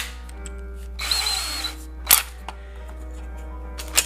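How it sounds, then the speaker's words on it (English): Power drill boring through a pedal board box, a loud whining burst of about a second under a steady background hum, followed by a few sharp clicks and clatters. "So we're going to go ahead and drill through the box."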